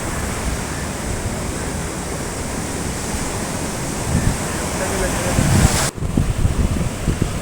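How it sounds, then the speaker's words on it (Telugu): Ocean waves rush up a beach in a steady broad roar of surf and wind, swelling louder toward the end before a brief dip, then continuing close by. "చూసారు కదా అలలు ఎంత స్పీడ్లో వస్తున్నాయి."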